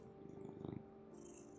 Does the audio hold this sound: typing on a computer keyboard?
no